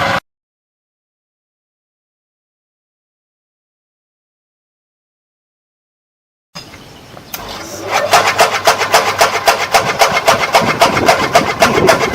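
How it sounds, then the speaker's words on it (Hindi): A motor-driven grass cutting machine with a motor whose rotation direction has been changed, silent at first, then starting up and running with a steady, loud buzzing whir close by. "अब हम इस मशीन के ज़रिए घास को भी काट के चेक करेंगे।"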